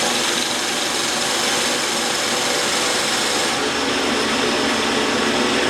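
Cordless drill driving a trailer tongue jack at low speed, a loud continuous motor whir and grinding hum holding steady throughout.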